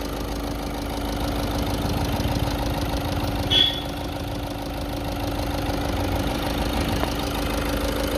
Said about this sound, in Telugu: బండి ఇంజిన్ సౌండ్ అయితే బాగుంది.